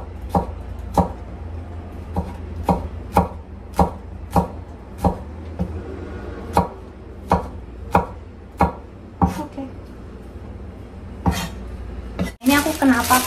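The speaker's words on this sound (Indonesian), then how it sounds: "tinggal diiris tipis" A knife thinly slices crushed shallots on a cutting board, giving a regular series of sharp, close chops roughly every half second. A clatter of utensils follows at the end.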